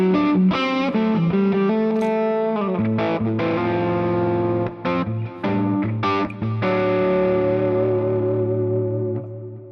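Electric guitar lead on the neck humbucker through a Fractal AM4 modeling a Fender Deluxe Reverb, pushed by a Tube Screamer: a loud, continuous run of sustained distorted notes and bends with a mid-focused tone, played alone with no talking.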